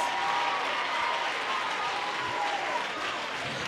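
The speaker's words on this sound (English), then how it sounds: "Clap your hands and give God glory in this place." A church congregation applauds together in a dense, sustained wash of clapping that stays steady and loud across the whole stretch, with a few voices mixed in under it.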